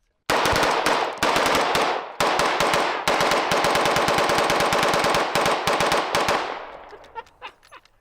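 A modified firearm fires in rapid full-auto bursts, loud and close, a dense string of shots broken by brief pauses, then tapering into a few scattered pops and an echoing tail.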